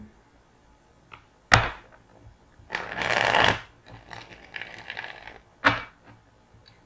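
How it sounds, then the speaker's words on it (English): Tarot cards are shuffled close up: a sharp snap, a longer riffling burst, then softer shuffling and another crisp snap, with no talking. "One more shuffle."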